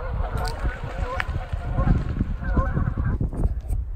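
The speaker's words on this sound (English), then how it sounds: "Hear all that honking? They're warning each other." A flock of geese honks repeatedly from some distance outdoors, irregular overlapping calls over a busy low rumble of wind or handling noise.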